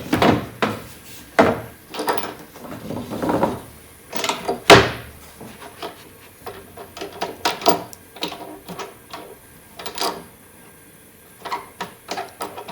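A workpiece being clamped onto a machine table, a string of irregular metallic clunks, knocks and clicks from handling parts and clamps, close, with a few louder hits, no talk.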